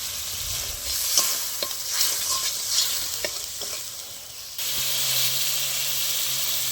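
A masala of ginger and turmeric crackles and is stirred in a hot pan with repeated scrapes. Partway through, water is added, and the sizzle turns into a steadier, louder steaming hiss.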